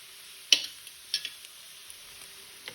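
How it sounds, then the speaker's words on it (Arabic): Potatoes frying in a covered pan, a soft steady sizzle broken by a couple of sharp pops and light clicks, close and fairly quiet with no talking. "غادي نسد على هاد البطاطس ونخليها حتى تحمر معانا"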